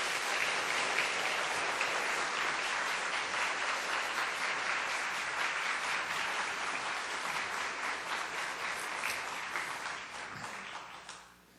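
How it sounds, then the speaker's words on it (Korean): A church congregation at an evening revival service applauds to welcome the pastor, a dense, steady wash of clapping from many hands that holds throughout before fading out at the end. "목사님 환영하는 박수로 목사님 모시도록 하겠습니다"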